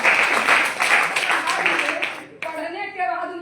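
Dense burst of clapping from a seated audience at a talk, brisk and fairly loud for about two seconds, then cut off as a speaker's voice takes over.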